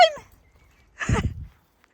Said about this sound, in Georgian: დედა ეს გადარეული ძაღლი.